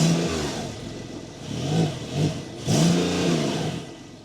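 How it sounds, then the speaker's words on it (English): Engine of a Porsche 911 GTS Hybrid revved while standing still, idling then rising in several loud blips, the last rev longest and strongest before settling back. "I'll rev it a little bit and then you tell me in the comments, what do you think about that sound?"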